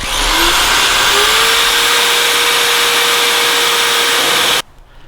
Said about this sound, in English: we're also drilling using a Phillips head bit